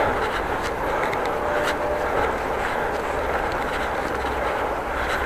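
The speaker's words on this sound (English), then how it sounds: "Train in the distance." A steady, distant rumble of a passing train that holds constant throughout, with faint rattling on top.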